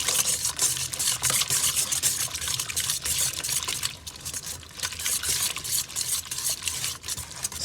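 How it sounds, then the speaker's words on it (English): Cake batter stirred and mixed in a bowl, a continuous wet, sloshing scrape with rhythmic strokes, fairly close and loud throughout. "And I'm going to mix this all up."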